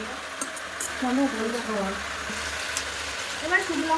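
Dried red chillies and spices sizzle in hot oil alongside fish frying in a pan, a soft, steady crackling hiss running beneath nearby conversation.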